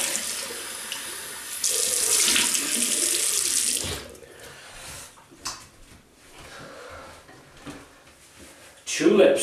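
Tap water gushes loudly into a sink for rinsing over the first few seconds, then stops, leaving quieter handling clatter and a splash near the end.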